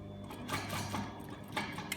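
An industrial sewing machine running reinforcing stitching along the edge of a bag pocket corner, a fast mechanical whirring with rhythmic needle ticks and a few louder thumps, steady and close.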